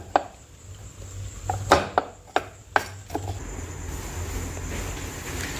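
Dry fruits being chopped finely with a knife for modak filling: a handful of sharp, close chops in an irregular burst, then a steady quiet background.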